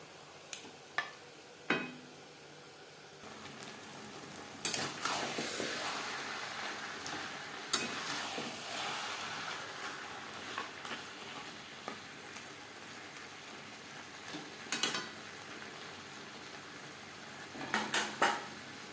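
Shankar fish pieces stirred with onion and tomato over a high flame, a faint background sizzle broken by clinks and scrapes of a utensil against the pot, with bursts of busier stirring, close and without talk.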